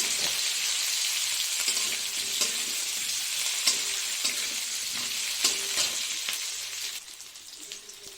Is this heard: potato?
yes